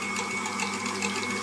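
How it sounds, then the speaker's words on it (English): An electric mixer runs on low speed, whipping cream and sugar for frosting, giving a steady, continuous motor whine with a bright buzzing edge that holds even and unbroken throughout. "So you're going to put your mixer on about low,"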